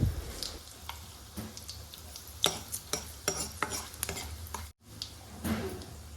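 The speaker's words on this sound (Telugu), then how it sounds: "1 టేబుల్ స్పూన్ తాలింపు గింజలు, 2 ఎండుమిరపకాయలను తుంచి వేసుకోవాలి" Tempering seeds and broken dried red chillies fry in hot oil, crackling steadily while a spoon stirs and taps against the pan in irregular metallic clicks, with one brief gap near the end.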